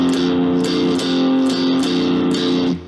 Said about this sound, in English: This rhythm guitar pattern I usually refer to as the blues pattern